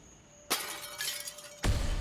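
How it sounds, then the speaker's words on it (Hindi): Glass shatters in a room at night, two sharp crashes about a second apart, the first followed by a tinkling spray of fragments and the second a heavier smash, with no voices heard. "कांच टूटने की आवाज"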